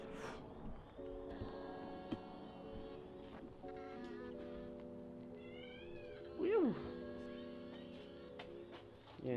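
A cat meows inside a parked car at night, several drawn-out mewing cries over a steady low hum, with one louder rising-and-falling meow near the end.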